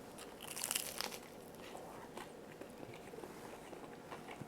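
Someone biting into a homemade copy of a popular fast food item, giving soft crunching and wrapper crinkling close by, fairly quiet with a slightly louder burst near the start and no talk.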